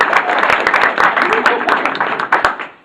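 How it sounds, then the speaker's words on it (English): An audience claps in applause at a mentalist and magician's stage show, a dense burst of many hands that is loud and continuous for a few seconds and then tapers off. "Everybody give Helen and Nancy a round of applause."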